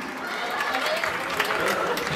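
Audience clapping at a cultural folk show in a theatre, a steady dense patter of many hands with a murmur of voices running through it.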